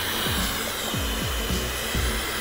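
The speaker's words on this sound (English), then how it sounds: "You want to try my hair dryer?" A Dyson Supersonic hair dryer runs steadily with a loud, close airy whoosh and high whine, its tone shifting in repeated sweeps as the airflow moves, with no voices.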